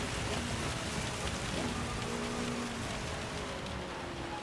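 Steady rain drums on a race car in a racing video game, with windshield wipers sweeping back and forth and engine hum underneath, all continuous and fairly loud with no talk.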